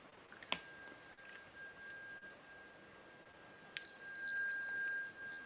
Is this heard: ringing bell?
yes